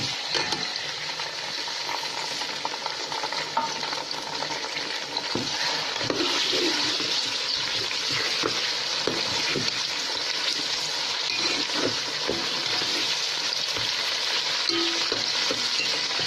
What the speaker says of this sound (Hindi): ये ½ kg मेरे पास गोश्त है, ये मैं डाल देती हूँ